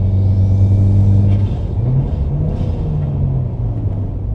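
A Subaru WRX fitted with a solid transmission mount hums while driving, with a steady low drivetrain drone and faint tonal whine that shifts pitch as the car winds down in gear, loud and close inside the cabin.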